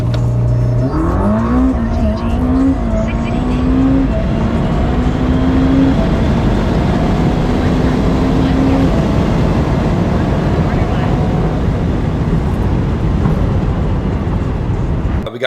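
Tesla Model S Plaid launching hard down a street for a quarter-mile run, a loud rising electric whine with road and wind roar building steadily for about fifteen seconds.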